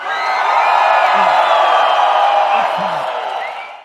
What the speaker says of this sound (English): That, of course, is the crowd cheering the preeminent adventuring party in Coventry